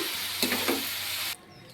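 Green chillies and cashew nuts frying in a pan for butter chicken masala, a close bright sizzle with a couple of quick stirring scrapes, cutting off abruptly near the end.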